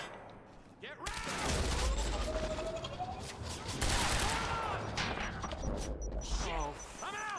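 Gunfire rattles through a firefight in the video game Quantum Break, dense overlapping bursts and impacts continuing for several seconds, with shouted voices mixed in.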